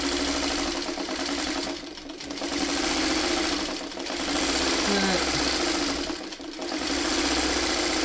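Sewing machine stitching quilt blocks set on point, running in steady mechanical bursts with two short pauses, loud and close, with no talk over it.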